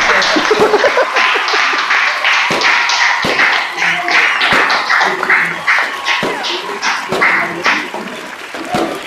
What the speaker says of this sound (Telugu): ఒకసారి క్లాప్స్ కొట్టి